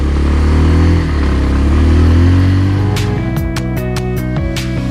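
A motorcycle engine revving in first gear on a hill climb at Marayong Tong near Alikadam, Bandarban, loud and close with a rising, falling drone, then sharp clattering knocks and rattles over the last two seconds.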